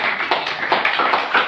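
A crowd at a church sermon claps loudly and close by, a dense run of rapid overlapping hand claps with an uneven rhythm, heard alone without talk.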